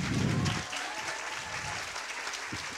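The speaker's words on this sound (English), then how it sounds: "Wow, clap them." An audience claps for award winners at a prep-class Oscars ceremony, a brief dense burst of applause heard alone, fading quickly after the first half-second into softer scattered claps.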